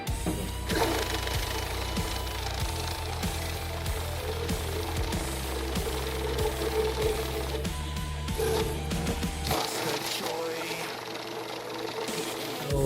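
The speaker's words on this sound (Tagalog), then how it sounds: "Testing natin itong bill counter na to." Bill counter machine counting a stack of cash, rapid rattling flutter with a motor hum, close and continuous for several seconds before stopping, with a voice speaking over it.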